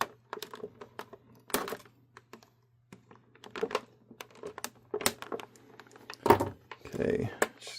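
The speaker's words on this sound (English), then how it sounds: "let's get my clippers out to get the last two of these cut" Hand clippers snip the plastic ties holding a Masters of the Universe Masterverse Teela action figure in its packaging, giving a few sharp close clicks mixed with plastic and cardboard rustling.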